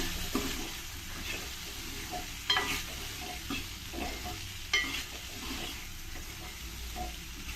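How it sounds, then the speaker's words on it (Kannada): Hyacinth beans sizzle in hot oil while a spoon stirs them, giving a steady frying hiss with periodic scraping strokes against the pan, close and moderately loud. "ಇದನ್ನು ಒಂದು ಸ್ವಲ್ಪ ಚೆನ್ನಾಗಿ ಎಣ್ಣೆಯಲ್ಲಿ ಫ್ರೈ ಮಾಡ್ಕೊಳ್ಳೋಣ"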